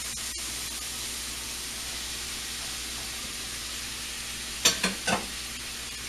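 Green beans sizzle steadily in a skillet with bacon, a soft continuous frying hiss with a few brief clatters of stirring near the end.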